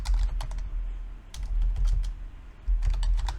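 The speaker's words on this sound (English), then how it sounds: "We type find" Quick bursts of keystrokes on a computer keyboard as a Linux find command is entered, close and crisp, in three short clusters separated by brief pauses, with no speech.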